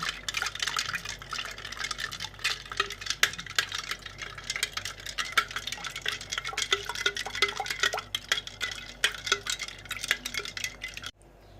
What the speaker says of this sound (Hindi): बर्फ़ डालने के बाद इसे मज़ीद थोड़ा सा हिलाना है